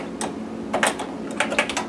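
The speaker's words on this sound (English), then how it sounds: "all I'm going to do is type disk equals disk read adv" Rapid clattering keystrokes come from a PC keyboard as a command is typed to read North Star Advantage disks, with steady close clicks in uneven bursts and no voice.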